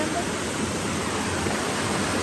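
A waterfall roaring as a steady, dense rush of broadband water noise, loud and unbroken throughout.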